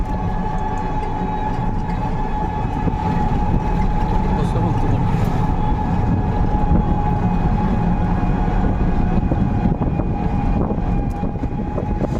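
A train runs past a level crossing on the way to Kankalitala near Bolpur, a steady loud rumble and rattle of rolling wagons lasting throughout, with a faint voice briefly audible.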